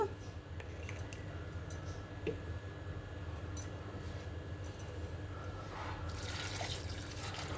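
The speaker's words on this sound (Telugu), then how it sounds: "వాటర్ పోసాను" Water poured into a pot of mango dal seasoned with green chillies and turmeric, a steady soft splashing stream running close and continuously for several seconds with no talk.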